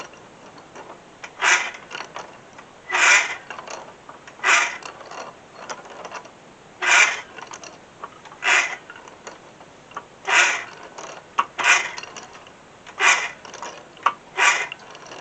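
A wrench turns well drilling pipe to unthread it, producing a series of about ten ratcheting metallic scrapes at roughly regular intervals, close and fairly loud, with no speech.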